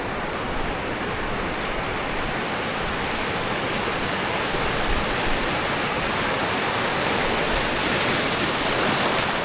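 Sea water surges in a dense, steady roar of waves and surf, loud and close, with no pauses over the whole stretch.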